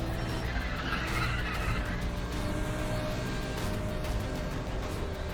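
A McLaren race car in Need for Speed: The Run drives hard with continuous engine roar and tire skidding, loud and unbroken throughout.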